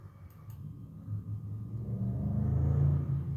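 A small Hyundai car with a 4.1cc motor strains up a hill, its engine rumble building steadily and growing louder as it labours in second gear.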